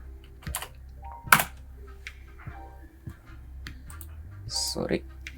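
Someone types on a computer keyboard, with scattered, irregular keystroke clicks and a few sharper taps, heard up close at moderate volume.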